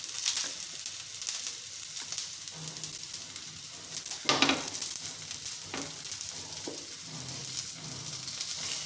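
Leftover chapati rolls fry crisp in oil over a low flame, a steady soft sizzle running throughout, with a few louder crackles and the occasional stir or scrape of a spatula.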